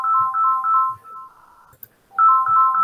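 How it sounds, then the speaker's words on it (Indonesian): A phone's electronic ringtone trills loudly in a repeating melodic pattern, pauses briefly with a faint click, then resumes ringing close to the microphone. "Telepon terus."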